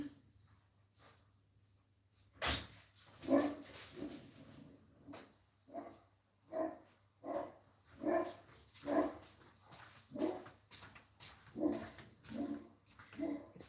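Indoor dog barking in a run of about a dozen sharp, evenly spaced barks after one loud opening yelp, with soft whimpers between them while heavy rain falls outside.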